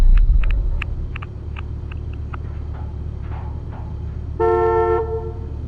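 A car pulls up in a video game, with a low engine rumble, several short toots, and a longer horn honk near the end.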